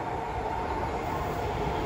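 Inside a moving subway train in Japan, a steady loud rumble and roar of the carriage running on the rails continues without a break.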